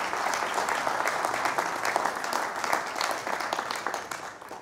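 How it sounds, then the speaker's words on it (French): Conference audience applauds, a dense, sustained crowd clapping throughout that tapers slightly toward the end. "Je voudrais qu'on vous applaudisse encore."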